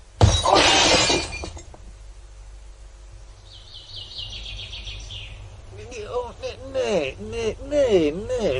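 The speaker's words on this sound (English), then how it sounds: "Ginger applied the brakes so hard that Bob went through the windscreen." Car windscreen glass shatters in a loud, brief crash at the start of a radio drama scene, then fades into quiet before voices begin talking.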